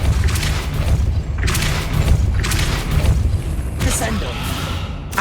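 Repeated heavy booming spell blasts from Depulso in the video game Hogwarts Legacy, several thumping bursts in a row over a constant low rumble, loud and close.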